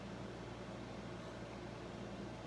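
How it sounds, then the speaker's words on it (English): A faint, steady air conditioner hum running full force on a hot day, an unchanging broadband drone with a low rumble and no other sounds. "I'm sure the air conditioner's running full force today."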